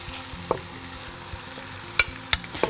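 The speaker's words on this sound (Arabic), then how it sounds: "ما بستناش اقلب البصل لاني انا هحط عليه اللحمه بتاعتي دلوقتي حالا" Meat goes into a pan of frying onions and spices, bringing a low, steady sizzle punctuated by a few sharp clicks and utensil taps close by, with no voices.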